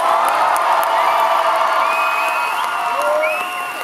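Loud crowd at a dance battle cheering, whooping and clapping to vote for a dance team, a dense continuous roar with shrill whistles and shouts rising over it throughout.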